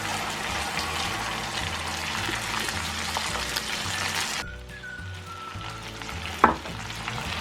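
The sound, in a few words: water poured into frying meat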